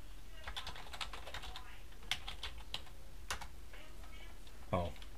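Someone types on a computer keyboard during a CAD meeting, a scatter of quick key clicks at moderate distance over a low background hum, with no words spoken.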